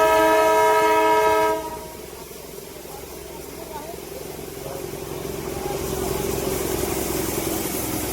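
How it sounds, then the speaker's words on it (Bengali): A toy train on a hill railway runs past a waterfall without stopping, its horn blaring loud and steady for about a second and a half before cutting off, followed by the rumble and clatter of the passing cars. "দাঁড়ালো না, টয় ট্রেনটা চলে যাচ্ছে"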